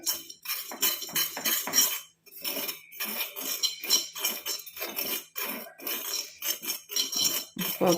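Spice powder being stirred and roasted in a hot pan, a spoon scraping and clinking against the metal in quick repeated strokes, close and fairly loud with no voices.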